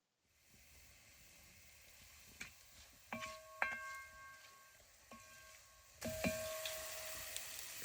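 Garlic and spices being stirred in a hot pan for a green grape pickle, a soft steady sizzle and hiss with faint scraping and clinks, rising louder near the end.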